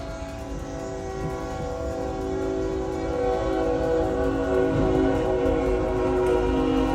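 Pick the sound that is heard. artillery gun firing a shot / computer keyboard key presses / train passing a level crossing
train passing a level crossing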